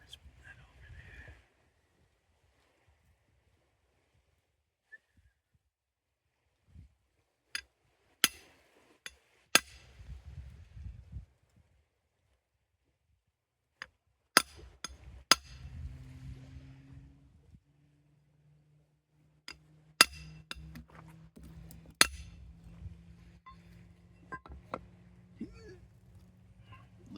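Sharp, isolated metallic taps of a small hammer on tinsmithing sheet metal ring out at irregular intervals, some louder than others, with quiet stretches and low shuffling noise between strikes.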